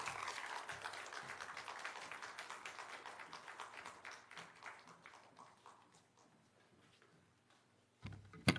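Applause from a church lecture audience welcoming a guest preacher, a crowd's clapping that starts full and thins out over several seconds, then a brief loud burst of sound near the end.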